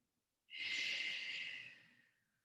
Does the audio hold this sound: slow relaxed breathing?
yes